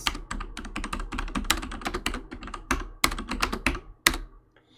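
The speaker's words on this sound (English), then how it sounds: "Why am I typing before it adds?" Rapid typing on a computer keyboard while programming, sharp close clicks in quick irregular bursts with brief pauses, a few heavier keystrokes standing out near the end, no talking.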